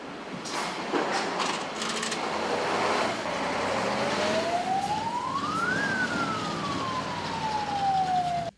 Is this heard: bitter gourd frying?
no